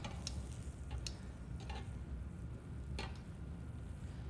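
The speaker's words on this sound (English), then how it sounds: "keep stirring it, making sure it's not sticking" Polenta stirred in a pot: soft scraping strokes and a few light clicks of the spoon against the pot over a low bubbling simmer, quiet and close.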